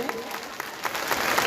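An audience claps loudly and steadily at an outdoor Shrimad Bhagavat Katha religious discourse in Mohanpur, the dense applause continuous throughout with a voice faintly underneath.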